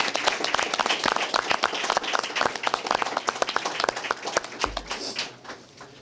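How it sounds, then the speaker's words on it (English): A small audience at a high school baseball press conference gives a round of applause, a patter of distinct individual claps close by that thins out and fades near the end. "Can somebody give a round of applause for that?"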